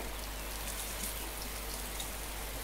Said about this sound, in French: Ah puis il pleut